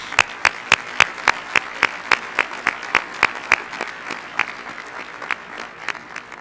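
An audience at a university graduation ceremony applauds a graduate's 3.96 grade point average, with crisp individual claps standing out in an even, steady rhythm over a softer bed of clapping.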